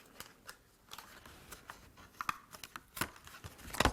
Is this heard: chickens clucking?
no